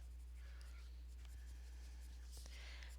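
Pencil on paper making short, quiet flicking strokes to draw hair, soft scratchy sounds close by in a hushed room with a low hum beneath.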